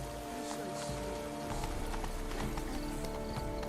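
Roach, a horse in The Witcher 3, trots with steady clip-clop hoofbeats under a busy game mix of ambient noise and music, the rhythm running continuously and fairly close.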